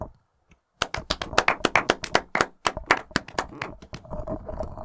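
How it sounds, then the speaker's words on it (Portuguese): Two podcast hosts clap their hands up close, a quick burst of roughly twenty sharp, slightly irregular claps starting after a brief quiet moment and tapering off near the end. "Vamos fazer umas palmas"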